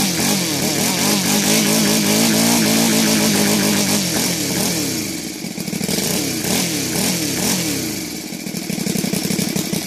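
A gasoline engine fitted with a Laser 300 ignition revs hard with rising and falling sweeps, then drops quickly back to a steady idle with a few short blips, loud and close, no talking.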